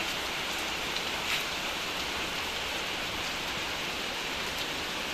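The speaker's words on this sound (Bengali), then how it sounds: "বাইরে এত জোরে বৃষ্টি হচ্ছে" Heavy rain pours down outside in a steady, dense hiss of countless drops that stays even throughout, with no voices.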